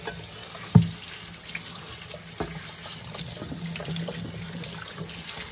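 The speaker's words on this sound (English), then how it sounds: "So I'm gonna wash these and prep these for the week." Tap water runs steadily into a kitchen sink while green beans are rinsed, a continuous close splashing with a brief clatter near the start.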